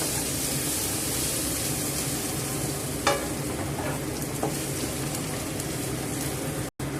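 Ginger and garlic stir-frying in a hot pan, a steady close sizzle with a few scraping stirs of the spatula, no talking over it.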